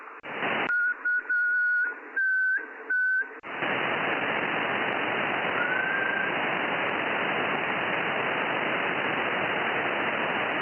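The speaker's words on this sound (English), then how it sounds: "I hear you whistling, but I don't hear your voice." A few short whistled tones come through an amateur radio channel in choppy bursts, then a loud steady hiss of static fills the rest.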